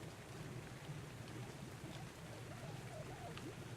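Steady rain falling in the ARK: Survival Evolved video game, a continuous soft hiss with a low droning background hum and no talk over it.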